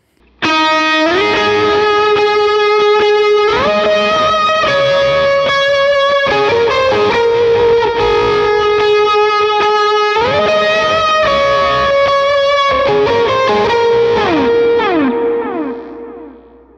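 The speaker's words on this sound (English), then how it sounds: "So now we're in that main lead part, that guitar 1 part, and it sounds like this." An electric guitar plays the main lead part of a worship song through a Helix-style modeler, with sustained distorted notes and slides under chorus, echo and reverb, loud and unaccompanied before fading out.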